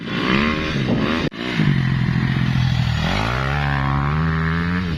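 A Husqvarna FC 250 motocross motorcycle engine revving nearby, loud and tonal, with a brief cut-off about a third of the way in before the engine note swells back and climbs steadily.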